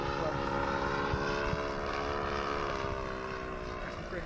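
A radio-controlled model airplane, a Chris Foss Acro Wot, flies circuits overhead. Its engine gives a steady, high buzzing drone that stays fairly even in level, with some wind noise mixed in.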